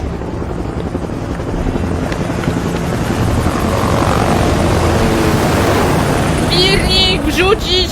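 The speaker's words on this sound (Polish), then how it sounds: "butelkę w wirnik i rozwalić ten helikopter w cholerę" A helicopter flies in the video game Far Cry 6, its loud steady rotor roar filling the scene, with a few brief game sound effects near the end.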